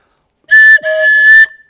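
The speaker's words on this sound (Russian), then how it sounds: "И вот вырезал свисточек." A handmade grass whistle carved from a plant stem is blown in two close, loud, shrill tones, a short blast then a longer sustained one with a slight wavering pitch, alone in quiet surroundings.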